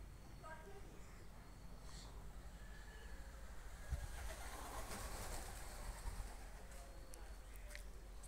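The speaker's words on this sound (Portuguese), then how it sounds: "Um bocado de pombo tão chocando." A flock of pigeons coos faintly at an outdoor spot, with soft, scattered calls over a constant low background rumble.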